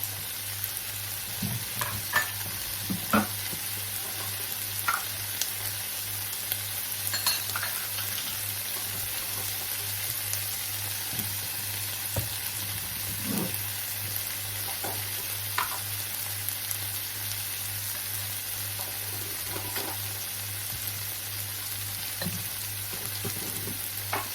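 Quinoa meal with a few drops of seasoning sizzles steadily in a pot for the whole stretch, with intermittent scraping and stirring strokes of a utensil against the pot, close and fairly quiet, with no talking.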